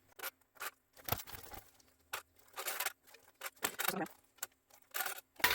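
Repeated crisp snips of scissors clipping fabric while sewing a clutch bag, in short irregular bursts with brief pauses between cuts, close-up and fairly quiet.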